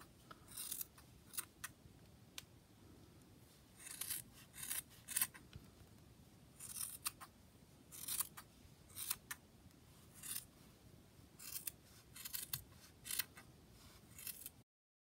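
Scissors snip repeatedly through a crocheted baby hat, a series of quiet, crisp close-up cuts in uneven bursts against near silence, with no talking.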